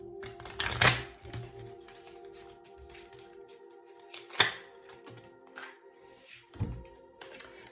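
Angel oracle cards being shuffled by hand in short papery bursts, with a loud riffle near the start, another around the middle and a third toward the end, quiet handling between them and no talk.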